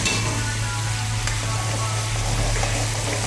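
Onion and cumin seeds frying in a pan for a Telangana-style uggani breakfast, giving a steady, close sizzle with a continuous low hum beneath it and no talk.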